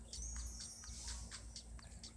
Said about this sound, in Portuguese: Quem é esse passarinho?